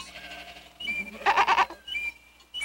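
Ewes bleat in a short, wavering burst as a sound effect in a children's Bible story reading, heard close and moderately loud with fainter bleats around it.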